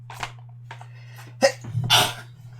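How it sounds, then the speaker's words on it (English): A person sneezes close by. The sharp burst follows a few quick breathy intakes, with a low steady hum underneath. "Sorry for like sneezing."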